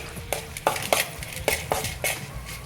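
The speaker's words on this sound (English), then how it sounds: "Okay, and stir it well." Cucumbers are stirred with salt in a bowl for a Khmer dish with weaver ants, producing a quick run of close, wet scrapes and clacks at an even rhythm, about six strokes in under three seconds.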